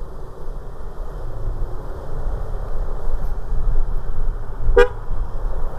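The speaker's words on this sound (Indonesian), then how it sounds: "Aku baru nyadar kalau klaksonnya diganti." A short, single honk sounds from the horn of a Honda Forza 250 scooter, a fitted replacement horn, cutting in briefly over steady road and engine noise while riding through traffic.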